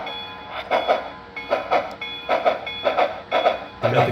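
An HO scale model steam locomotive, a Mallet articulated type, sounds its whistle in a run of short repeated toots, about six even bursts in four seconds, fairly close and with no talk.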